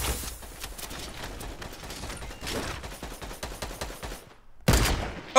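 Rapid bursts of minigun fire in a Fortnite match, dense mechanical crackling shots stopping and starting, close and fairly loud, with a sharp louder burst near the end.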